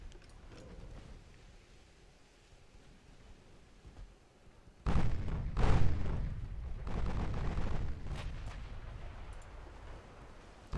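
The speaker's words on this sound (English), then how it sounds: "We're firing our mains at a destroyer?" Warship main guns fire in the naval battle game Ultimate Admiral: Dreadnoughts. After a quiet stretch, heavy booming salvos erupt suddenly, followed by more thudding blasts and a lingering rumble.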